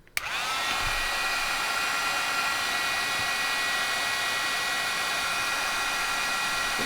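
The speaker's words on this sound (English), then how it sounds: "Alright, so you need your heat tool. This takes just a minute to heat up." An electric heat embossing tool warming up for card making, giving a steady, loud blowing whoosh with a faint whine that starts abruptly and runs without pause.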